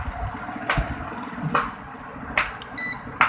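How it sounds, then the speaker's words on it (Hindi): A repaired AC/DC fan circuit board gives one short electronic beep near the end, among a few light clicks and handling knocks, with no talk. "अभी आपको बीप की आवाज़ भी आएगी"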